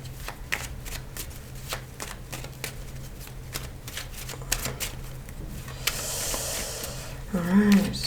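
Tarot cards shuffled and flipped close up, a quick run of papery riffling clicks and slides, getting louder toward the end, with a short hum of a voice near the finish.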